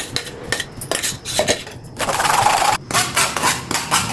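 Mango jelly mixture is strained through a metal strainer into a bowl, with clinking and scraping of utensils against dishes, irregular close taps and rattles alongside a brief pouring swish.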